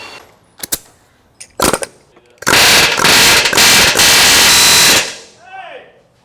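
Loud, continuous cutting and grinding on welded traction bar mounts under a Ford F250, with a few sharp metallic bursts before a sustained broadband grinding run that stops abruptly, followed by brief talk.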